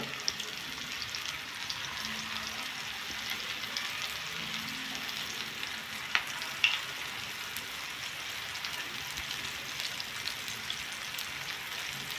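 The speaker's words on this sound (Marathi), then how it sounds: "चांगले कुरकुरीत असे सुरमई फ्राय करून घ्यायच्या" Masala-coated kingfish (surmai) slices fry until crisp on a flat pan, giving a steady, even sizzle and hiss throughout, with a few brief pops and no talking.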